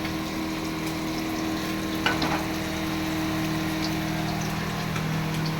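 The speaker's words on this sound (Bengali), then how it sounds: "একে একে আমি সুন্দরভাবে মাছগুলো ভেজে নিচ্ছি।" Pieces of rohu fish fry in a pan with a continuous, close sizzling hiss, steady throughout, with a short crackling burst midway and a low hum underneath.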